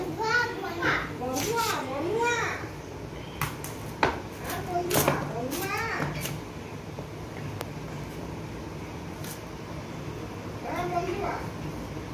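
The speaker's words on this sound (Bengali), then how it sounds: "আমি কলাগুলো কেটে নেব" Raw green bananas are cut on a kitchen board with a string of crisp knife chops. Children's voices and other talk are heard throughout, with quieter tapping toward the end.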